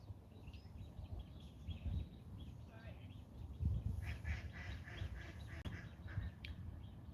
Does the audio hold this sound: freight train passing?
no